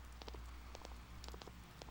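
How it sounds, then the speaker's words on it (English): Rain falls in the video game Persona 4, a quiet, steady patter with soft low rumble and scattered brighter taps throughout. "And it's raining."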